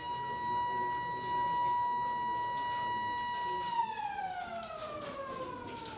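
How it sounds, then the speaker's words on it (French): A siren sounds steadily to signal the start of written BEPC exams at a school in Benin, holding one high tone before gliding downward near the end, loud and continuous over a faint background murmur. "Derrière, la sirène retentit."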